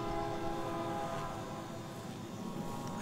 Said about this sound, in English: A freight train? Freight train.